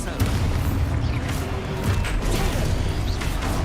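Expulso explosion spell in Hogwarts Legacy, a magical blast in the game, booming and crackling in dense bursts amid continuous combat noise.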